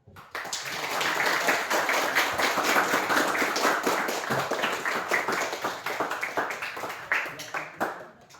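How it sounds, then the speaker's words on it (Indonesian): Children in a Christian religious education class clap their hands together in a lively, uneven patter that runs for several seconds. The claps thin out toward the end. "Ya, kita tepuk tangan."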